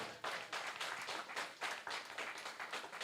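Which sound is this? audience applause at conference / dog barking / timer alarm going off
audience applause at conference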